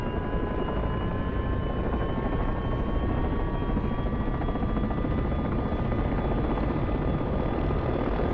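AH-6J Little Bird helicopter in the DCS video game, turbine running up during engine start with a steady whine that rises slowly in pitch over a constant broadband roar, no voices.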